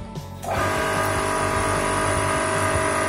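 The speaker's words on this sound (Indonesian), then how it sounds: "Oke, dinyalakan saja motornya." An electric motor on a lab test bench switches on, its steady hum building quickly to a constant whine with a low rhythmic pulse, loud and continuous with no talk.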